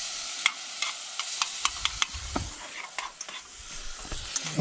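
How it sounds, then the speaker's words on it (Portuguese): Seasoning and food for a moqueca fry in a hot pan with a steady bright sizzle, punctuated by repeated sharp scraping stirs and utensil taps close by. "Fritando aí, galera, olha só."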